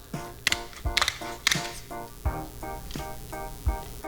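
Durox heavy duty kitchen shears snip through the bones of a whole fish, making a series of sharp crunching clicks in a steady rhythm, about nine close, crisp cuts over a faint tonal background.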